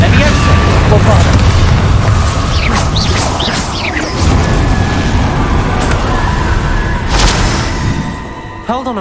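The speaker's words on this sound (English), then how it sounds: "Incendio! Levioso! Bombarda!" Bombarda explosion spell cast in Hogwarts Legacy, booming blasts and crashing impacts with magical whooshing sweeps, loud and dense, continuing steadily over game sound and background effects before fading at the end.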